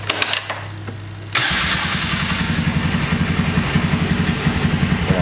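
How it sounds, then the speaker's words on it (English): A Can-Am Bombardier Outlander 400 ATV engine cranks with a few short clicks, then catches and settles into a loud, steady, pulsing idle close by. "I'm going to start the engine up right now."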